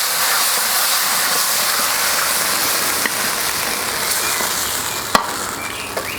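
Satay king prawn sauce bubbling and caramelising in a pan on a Kamado Joe grill, a steady close hiss and sizzle with a couple of faint clinks from a utensil.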